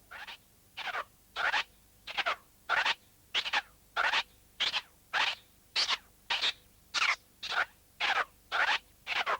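Rapid three-fingered crab turntable scratch pattern, each stroke chopped into quick bursts by the crossfader, repeating evenly in a steady rhythm, bright and close with no voices.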